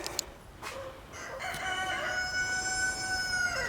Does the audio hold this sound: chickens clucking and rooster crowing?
yes